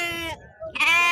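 Goats at a Friday sheep and goat market in Husnabad, kept for meat, give two close, loud bleats separated by a short pause, with no talking.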